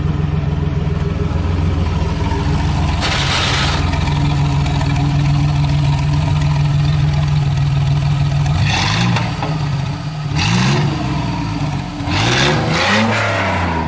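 The V6 engine of the original Back to the Future movie car runs loud and close at a steady idle, then gives several sharp rev blips toward the end.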